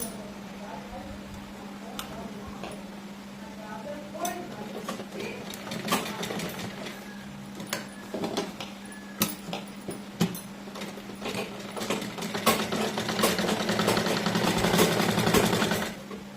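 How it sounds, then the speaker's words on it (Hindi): A sewing machine stitches a side-pleated kurti, its motor humming steadily under rapid ticking needle strokes, close by and growing louder and busier toward the end. "तो हम इसके ऐसे पलट के यहाँ से सिलाई लगाएंगे।"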